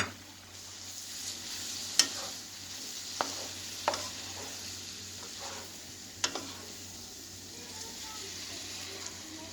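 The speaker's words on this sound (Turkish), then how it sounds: "Kısık ateşte pişmeye devam etsin." Liver with onions and sweet red peppers cooking in a pan over low heat, making a soft continuous sizzle broken by a few sharp clicks of stirring, with no talk.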